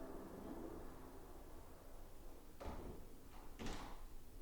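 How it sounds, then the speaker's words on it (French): An indoor door swings shut with two brief knocks and clicks of the latch, fairly faint against a steady background hiss, with no one talking. "On va refermer la porte."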